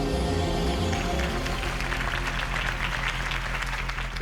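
A crowd applauds right after Harvey Dent's campaign speech in the Batman Telltale video game, a loud, continuous wash of clapping that fills the whole stretch.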